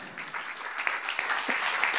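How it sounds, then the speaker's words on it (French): Audience applause at a business forum on Ukraine's energy and infrastructure makes a dense, steady wash of many hands clapping, fairly loud and continuous for the whole two seconds. "Là aussi, on va les applaudir."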